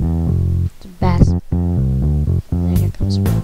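A bass line from Magix Music Maker 2014 plays as sustained, deep synthetic notes in a steady rhythmic pattern, loud and close, with short gaps between phrases.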